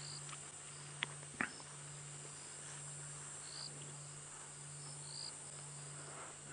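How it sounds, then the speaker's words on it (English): A steady, faint insect drone of cicadas fills a quiet evening on a sunset safari drive, with a couple of soft knocks and brief chirps in the background. "The cicadas are calling"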